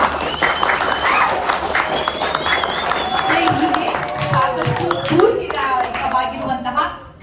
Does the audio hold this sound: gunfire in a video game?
no